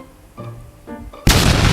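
A couple of soft clicks lead into a sudden loud blast of noise that holds for about half a second, a grenade explosion in the Roblox game A Dusty Trip.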